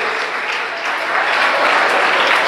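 Audience at a free business training session on paper plate, agarbatti and camphor machines claps steadily and loudly, a dense unbroken wash of applause that swells slightly toward the end.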